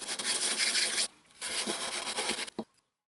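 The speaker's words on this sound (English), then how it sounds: "Now you can see that I have my bevel sanded and I get a nice perfect fit with the front of the fuselage." Sandpaper rasps against a wooden edge to bevel it for a flush fit with the front of a model aircraft fuselage, two close bursts of rough back-and-forth scraping separated by a short pause.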